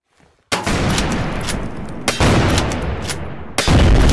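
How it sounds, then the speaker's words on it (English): Explosive sniper rifle shots fire in the Roblox War Tycoon game, three loud booming blasts at roughly one-and-a-half-second intervals, each followed by a long, sustained roar of noise. "it died in just 3 explosive sniper shots"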